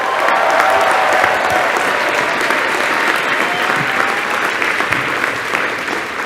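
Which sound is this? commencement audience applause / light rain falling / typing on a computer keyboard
commencement audience applause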